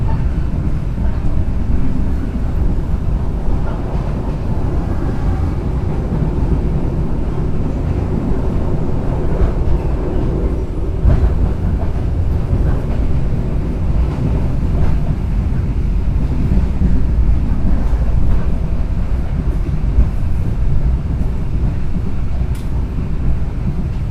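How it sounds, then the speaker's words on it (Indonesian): KA Mutiara Timur passenger train on the Surabaya line running after leaving Rogojampi station, heard from inside as a loud, steady rumble with rail clatter and wind noise throughout. "Kereta api Mutiara Timur yang saya naiki sekarang sudah berangkat dari stasiun Rogo Jampi"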